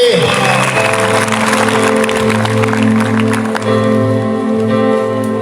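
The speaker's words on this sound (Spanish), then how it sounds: "dale un aplauso a Jesús más fuerte" Church congregation applauding during a lively Spanish-language worship service, steady clapping blended with loud sustained music and voices throughout.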